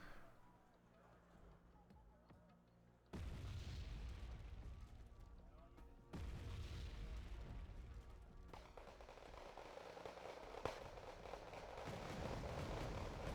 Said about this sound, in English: The artillery's getting some decent hits.